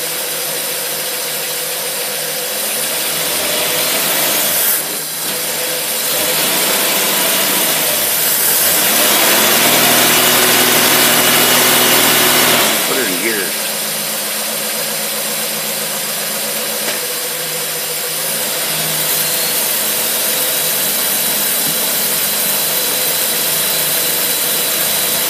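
An engine fitted with a Holley teapot carburetor runs steadily, its idle rising to a louder revving stretch in the middle before settling back to a rough, even idle.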